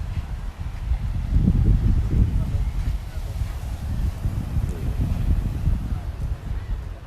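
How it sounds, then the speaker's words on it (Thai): Strong wind at a beach viewpoint near an airport in Phuket, buffeting the microphone in steady gusty rumbles, loud and close throughout. "ดูซิว่าวันนี้ลมแรง"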